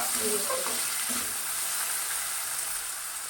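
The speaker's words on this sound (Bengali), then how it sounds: "একটু ভাজা হোক দেখো ভাজাটা হচ্ছে" Onion shoots and potato fry in a pan while being stirred, giving a steady close sizzle with a few brief scraping stirs near the start.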